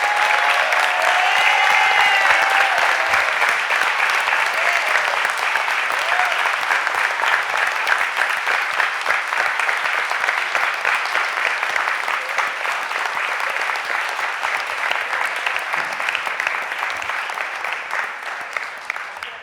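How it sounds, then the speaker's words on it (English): Sustained applause from a standing audience in the chamber at a Philadelphia City Council stated meeting, a dense, steady roar of many hands clapping that holds strong for nearly twenty seconds before easing slightly at the end. "please stand and give them a real big round of applause"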